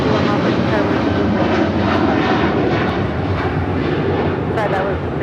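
A United heavy airliner takes off from runway 25 right at Los Angeles International Airport, its engines a loud, steady, broadband roar that fills the whole stretch without letup.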